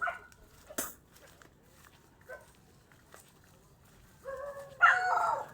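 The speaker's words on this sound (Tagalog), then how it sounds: "Ito yung mga aso po yun po." Dogs give a few short, distant barks and yips in a quiet outdoor setting, ending with a louder, closer burst of barking.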